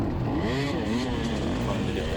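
Off-road motorcycle engine revving steadily with rising and falling pitch as the rider works the bike over an obstacle course in the Red Bull Outliers 2022 prologue, loud and close, with some voice underneath.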